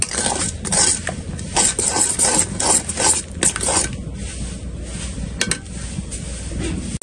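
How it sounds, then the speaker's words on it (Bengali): A spoon stirs and scrapes spice masala frying in a pan, making loud rhythmic metallic scrapes and clinks that ease into softer sizzling and scraping. "এরপর হচ্ছে এটাকে ভালো করে একটু কষিয়ে নেব, যতক্ষণ মশলা থেকে তেল কানা থাকতেছে।"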